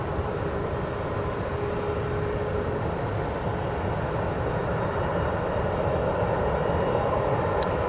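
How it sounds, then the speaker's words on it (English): A Cessna Citation Latitude business jet arrives at Dallas Love Field as a steady, loud, broad engine roar that holds without a break, with no talking. "I believe that was a Cessna Citation Latitude"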